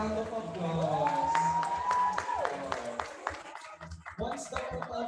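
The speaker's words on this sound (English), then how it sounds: "Everybody give her a round of applause." An audience bursts into applause at a university event, a burst of clapping and cheering with a whoop, underneath a speaker's amplified voice and a rising tone.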